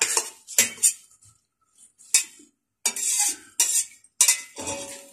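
Hakka noodles stir-fried in a wok, with a metal spatula scraping and clanking against the pan in quick bursts separated by short pauses, loud and close without talk.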